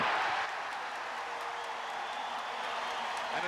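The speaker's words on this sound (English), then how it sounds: "Listen to the crowd as the Celtics have come back, still trailing by 5." A basketball arena crowd roars steadily at a 1986 Boston Celtics playoff game against the Chicago Bulls, a dense, loud, continuous wash of cheering and applause with no pauses.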